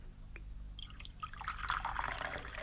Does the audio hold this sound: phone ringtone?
no